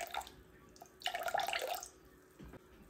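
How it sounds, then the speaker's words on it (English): Room temperature water poured into sourdough starter in a bowl, a brief splashing pour in the middle with faint trickles before and after, close and fairly quiet. "I'm gonna do 350 grams of room temperature water."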